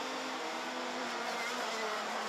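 Racing karts on wet tyres roar past on a rain-soaked track during a junior race, a dense, sustained engine buzz with tyre hiss swelling steadily and no voices.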